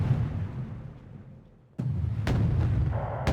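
Gunfire in the Wargame: Red Dragon strategy game, a sharp blast breaking in after a fading rumble, then several more heavy booming shots over a dense continuous roar.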